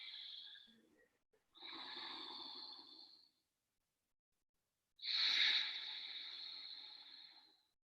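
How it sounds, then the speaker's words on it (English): Deep yogic breathing drawn through the throat: three slow, hissing, slightly rasping breaths, close and quiet, separated by short pauses. "The yogic technique of breathing, when you breathe from your throat,"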